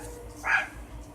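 A dog barks outdoors at a swimmer in a pool: a single short, moderately loud bark at middle distance over a low background hum, with no talking.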